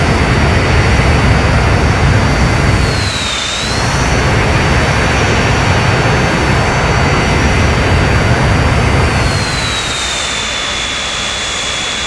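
A jet airliner flies in Transport Fever, a loud, steady roaring engine drone with a high whine that dips briefly and then drops lower near the end, with no talking.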